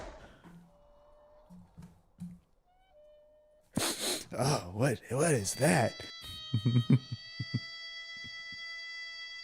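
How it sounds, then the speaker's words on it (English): After a few seconds of a person talking, a harmonica in Once Upon a Time in the West sounds a sustained, reedy held chord, quiet and steady to the end. "Obviously, that's a harmonica."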